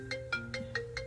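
A phone ringtone repeats five times in quick, even electronic pulses over a steady low hum, loud and close, with no talking.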